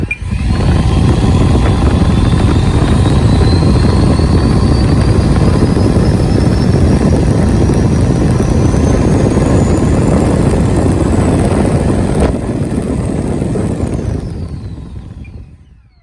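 An electric ducted fan motor in a MiG-29 model jet spins up to a loud, close, high whine. It holds steady with a pitch that slowly climbs, then winds down and fades at the end.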